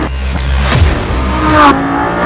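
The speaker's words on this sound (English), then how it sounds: "The V10 engine in the back there makes a beautiful noise" A Lamborghini Gallardo's loud rear V10 engine revs hard, its pitch climbing steadily as it accelerates toward the red line, then briefly shifts and keeps roaring close by.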